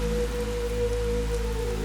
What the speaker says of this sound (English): The downpour will last for weeks.